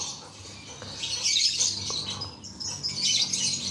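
A lovebird gives shrill, high chirping calls in short bursts, fairly close and moderately loud, with a pause between the two clusters of calls.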